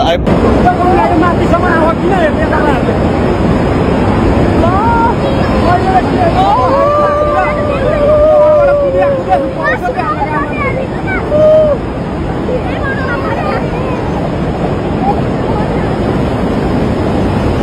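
Floodwater roars continuously through Trishuli bazaar in Rasuwa, a loud broadband rush with wind buffeting the microphone, while distressed voices shout and talk over it.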